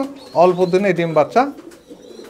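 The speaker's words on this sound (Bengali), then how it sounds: "এটা হলো রানিং কবুতর" A racing pigeon coos in a short, warbling burst, close by and mid-loud, while someone talks over it.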